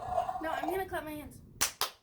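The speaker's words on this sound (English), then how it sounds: "I'm gonna clap my hands" Hands clapping twice, two sharp loud claps close by, coming right after a short stretch of voiced, speech-like sound.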